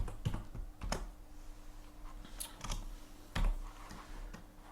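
Keystrokes on a computer keyboard while typing text into Notepad: sparse, irregular clicks over a steady low hum, fairly faint and close, with no speech.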